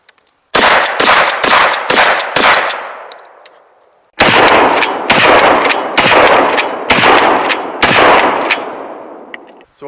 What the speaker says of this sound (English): Next, I'm going to fire 5 of the same shell through the gun and see what happens.